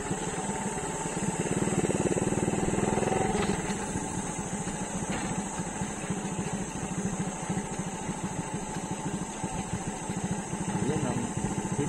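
A motorcycle engine idles and revs nearby at a scenic spot in the Philippines, a steady throbbing putter that swells briefly early on, with voices faintly in the background.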